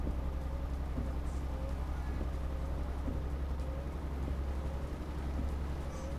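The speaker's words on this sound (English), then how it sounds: "It's starting to rain." Steady rain patters continuously in European Truck Simulator 2, with a low truck engine rumble underneath and no voices.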